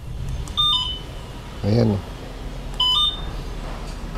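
A Sulong Pop electric motorcycle's alarm gives three short electronic chirps as it is locked and unlocked, spaced about a second apart and close by, with a person talking briefly between them.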